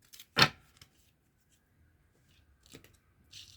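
A deck of playing cards cut on a table: one crisp riffling snap up close, then a softer second rustle a couple of seconds later, with quiet room between.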